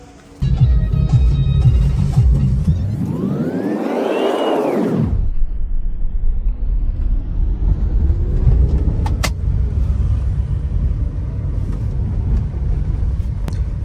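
Maruti Suzuki Alto K10 driving on fresh tyres after a tyre swap, its engine rumbling steadily close by, a brief rising whine as it revs before settling into a constant road and engine drone, no talk.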